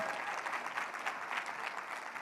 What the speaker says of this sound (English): And give her team a round of applause.